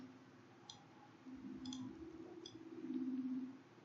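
A few faint, crisp mouse clicks during a copy and paste, set against a low steady hum and soft room noise.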